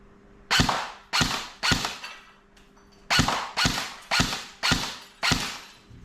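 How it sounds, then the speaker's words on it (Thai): An electric airsoft BB gun fires at a bottle: eight sharp, loud snapping shots in two quick groups, each crack close and followed by a short decay, with no talking. "ปืนไม่มีรีคอย ลองยิงขวดแตกไหม"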